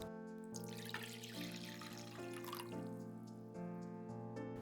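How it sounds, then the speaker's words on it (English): Dashi is poured into a cooking pot, a soft continuous trickle of liquid lasting several seconds, faint and steady, with a tonal background hum and no talking. "I add 200 grams of dashi to the pot"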